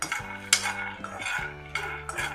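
Peanuts roasting in a pan, a metal utensil stirring and scraping against the pan in a few quick clinks and rattles, close and clear with no voices.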